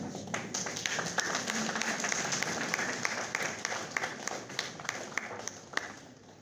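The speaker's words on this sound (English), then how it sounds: "Let us give them an applause while standing." A standing ovation for Save the Children at a council address in a hotel hall, with scattered, moderately distant clapping from a crowd over a murmuring room, steady throughout at modest volume.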